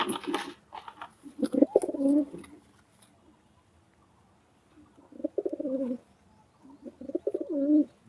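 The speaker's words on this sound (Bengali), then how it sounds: "আছে একটা নেপালি চৌকুলুত কবুতর" Close-up cooing from Nepali pigeons comes in three separate low, throaty bursts with quiet pauses between them.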